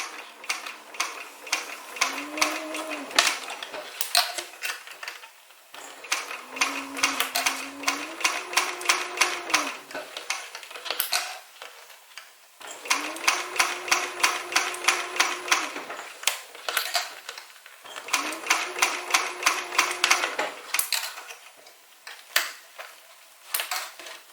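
A sewing machine runs slowly, stitching a strap along a track, in four long bursts of rapid, even needle ticking with a low motor whine, separated by brief pauses.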